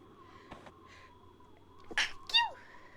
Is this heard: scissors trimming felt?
no